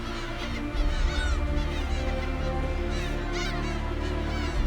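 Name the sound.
young gull calling as it takes flight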